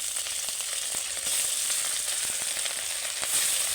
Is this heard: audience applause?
no